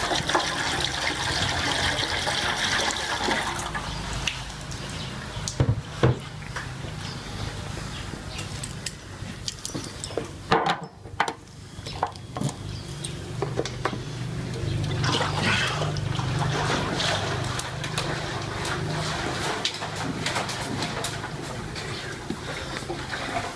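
Water sloshes and splashes inside a motorbike fuel tank being shaken, steady and close, with brief pauses between bursts of agitation.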